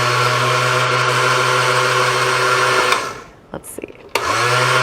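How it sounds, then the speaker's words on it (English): A slow countertop blender motor runs loud and steady at close range, then cuts out for about a second amid brief clicks before starting up again at full whir. "It's a slower blender"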